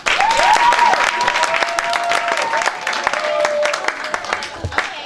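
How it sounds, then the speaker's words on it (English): Audience at a youth retreat applauding, dense sustained clapping from a crowd that stays loud throughout, with some cheering and a whistle-like tone gliding through the noise. "Can we give her a clap?"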